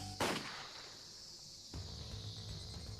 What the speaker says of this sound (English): A gunshot rang out before Sonozaki-san could finish speaking.